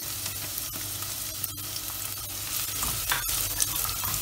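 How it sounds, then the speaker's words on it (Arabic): Finely chopped onion fries in vegetable oil while being stirred, a steady close sizzle with scattered scraping clicks from the spoon, all through with no voices. "اول شيء بنضيف زيت نباتي، بنضيف البصل مفروم ناعم"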